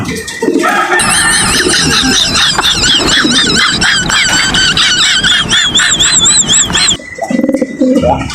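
A female pigeon in a breeding cage calls in a loud, continuous run of wavering, high-pitched cries that rise and fall for several seconds, then stop abruptly near the end.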